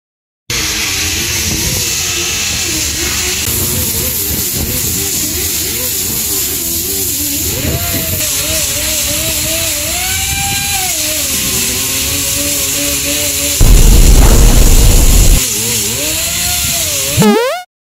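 A power sander grinds the rusty steel deck of a cargo ship at sea, a loud continuous close whirring drone that wavers in pitch, with a harsher burst partway through and no talk.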